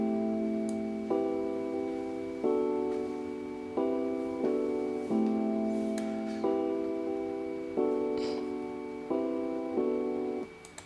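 The main electric piano part of an Afrobeats-style beat, playing repeating sustained chords in an even, looping rhythm. Mellow, moderately quiet keys with faint ticks above stand alone without talk.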